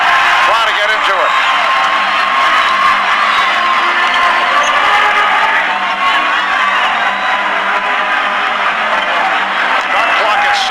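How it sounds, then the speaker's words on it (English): A dense, steady roar from the basketball arena crowd at the 1995 NBA Finals, Game 4 between the Houston Rockets and Orlando Magic, cheering continuously under a commentator's voice. "And now the crowd trying to get into it."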